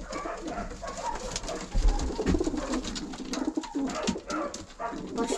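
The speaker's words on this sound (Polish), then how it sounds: "Pocztowe, bo ja lubię pocztowe gołębie, naprawdę." Homing pigeons coo inside a pigeon loft, with repeated soft low cooing calls close by, mixed with rustling and faint movement of the birds.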